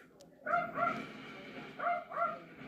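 A dog gives friendly, non-aggressive barks indoors at a house: four short yips in two quick pairs, moderately close and fairly soft, with quiet gaps between them.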